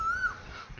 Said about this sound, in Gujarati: જો કોયલ સરસ મજાની બોલે છે.